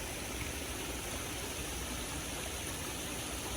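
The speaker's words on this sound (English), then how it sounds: "Nice with the running water in the background" Steady broadband rush of running water in a garden pond, continuous and fairly close, with no voices over it.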